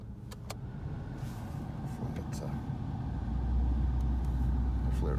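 A 1986 Oldsmobile Cutlass idling steadily after a cold startup, a low even engine hum that thickens slightly partway through, with someone talking over it.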